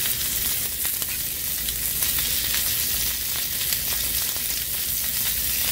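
Bell peppers stuffed with bratwurst sizzle on a hot outdoor griddle, a steady broadband frying hiss holding at an even level for several seconds with no voices over it.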